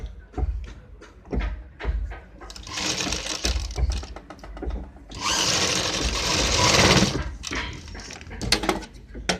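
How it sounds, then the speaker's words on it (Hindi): A sewing machine stitches a diagonally joined neck strip for a blouse neckline, running in short whirring bursts and two longer steady runs, broken by clicks and handling noises. "ये देखिएगा पट्टी को हम तिरछा करके जोड़ते हैं और इस तरीके से सिलाई मार देते हैं"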